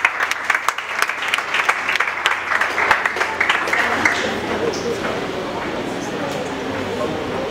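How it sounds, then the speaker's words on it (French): Wedding guests applaud during a French-language ceremony right after the couple is pronounced joined, a dense, sustained clapping that swells and holds steady, with voices and cheers mixed in the crowd. "Applaudissez vos pères"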